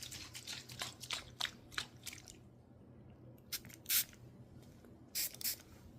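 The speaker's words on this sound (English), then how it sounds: "We're going to do some magnesium spray on your elbows and a little bit on your neck and jaw." Several short, sharp hissing bursts of a magnesium spray bottle onto elbows and neck, a quick string of pumps, a pause, then a few more sprays close by.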